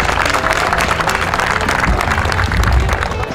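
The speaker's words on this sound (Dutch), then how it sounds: "Applaus voor die man" A crowd at a Dutch outdoor event applauds steadily, a dense wash of many hands clapping at once with no break across the whole stretch.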